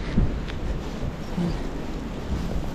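Strong wind in a snowstorm buffets the microphone in a constant low, rumbling roar with occasional gusty thumps.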